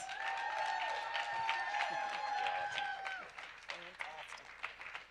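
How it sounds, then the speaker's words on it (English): An audience applauds at a business talk, a steady wash of clapping and crowd noise with a voice and tonal sounds over it, fading toward the end. "I need you to give him a round of applause."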